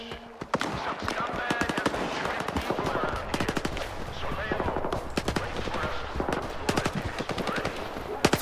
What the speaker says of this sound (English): Right, what are you shooting at now?